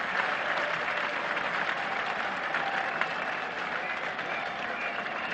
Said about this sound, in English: Applause and recognition from the West Indian fielders and from quite a useful last day crowd here.